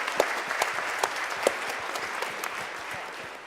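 Audience clapping after a startup pitch at a pitch finals event, a steady wash of many hands with a few sharper claps standing out, fading slightly toward the end.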